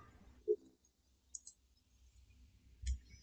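Computer mouse clicks while opening Command Prompt on a Windows 11/10 PC, three or four soft, isolated clicks spaced across a quiet room, close and faint with no talk.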